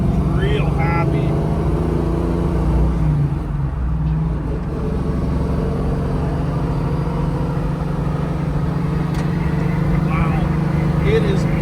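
A 1978 Pontiac Trans Am Firebird with a T-10 four-speed cruises along, its engine a steady low drone heard from inside the car, with a little wind noise, continuous throughout with no clear shifts.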